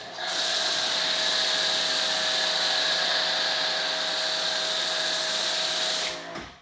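Stainless steel foam cannon with a 1.1 orifice spraying thick soap foam onto a car panel: a steady, loud hiss of pressurized spray that holds for about six seconds, then cuts off abruptly.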